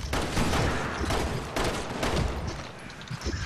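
Gunfire at a monster in Resident Evil 6, a loud dense fusillade of overlapping shots with bursts and brief pauses and no talking.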